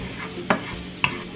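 Garlic frying in a pan, a soft steady sizzle with two quick scraping stir strokes, close and alone.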